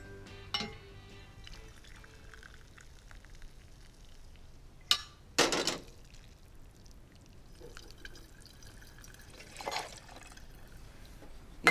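Water splashes into a cooking pot in a few short, sharp bursts with light clinks between them, close by in a quiet kitchen.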